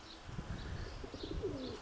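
Pigeons cooing inside a loft where the first squabs have just hatched, soft low coos repeating under a steady ambient background, with faint chirps.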